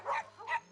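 Cartoon dogs barking at a village dog fair, a few short yappy barks in quick succession with a steady hum underneath, no talking.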